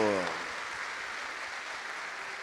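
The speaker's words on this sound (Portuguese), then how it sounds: "Ao Padre Adriano que veio celebrar conosco, nossa salva de palmas." Congregation at a Catholic Mass for the feast of São José Operário clapping in a brief, even burst, with a voice trailing off at the very start.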